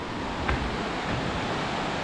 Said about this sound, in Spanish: Mira acá el río.